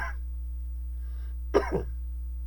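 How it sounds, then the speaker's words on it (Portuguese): A single sharp cough bursts out near the mic, followed by a softer second hack, over a low steady hum. "Me desculpa aqui, ainda tô com essa tosse."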